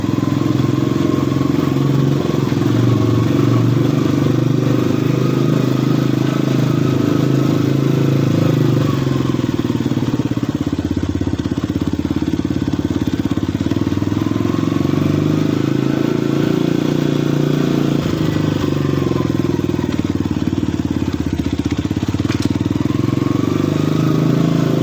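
A Yamaha Vixion supermoto motorcycle rides steadily in first gear, its engine droning loud and close for the whole stretch with rising and falling pitch as the throttle shifts, plus some mechanical clatter.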